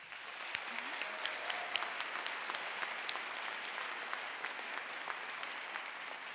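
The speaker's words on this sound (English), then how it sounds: "I know you're going to want to applaud this" An audience at a school district's special recognition night gives sustained, even applause, many hands clapping steadily and close throughout.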